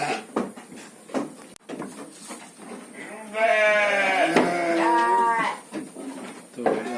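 Garut fighting sheep bleat in a sheep pen on a farm, several drawn-out wavering calls in a row, close and loud, with farm clatter around them.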